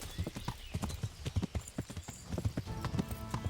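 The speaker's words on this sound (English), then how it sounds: "He's a fast horse." A horse in the Kingdom Come Deliverance video game gallops along with quick, rhythmic clip-clopping hooves, clear and evenly paced throughout while fleeing an ambush.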